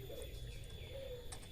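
A puter pelung turtle dove gives soft, low cooing notes over a faint steady background hum with a thin high whine.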